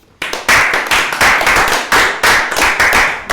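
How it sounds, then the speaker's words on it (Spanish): Loud, close clapping from a small group bursts out and repeats in short rhythmic waves during a livestream watching the Tokyo 2020 Olympic Games, with no voices over it. "aplaudimos a todos"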